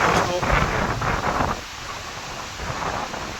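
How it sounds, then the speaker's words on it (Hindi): A violent windstorm with gusts of 50 to 100 km/h lashes an Indian roadside, roaring as loud, continuous broadband rushing with gusty surges and a possible rumble of thunder or spattering rain. "आंधी तूफान बहुत ही तगड़ा आया हुआ है"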